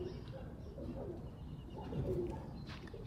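Pigeons kept for kit flying coo softly in a loft against a low, steady rumble, with faint chirps here and there.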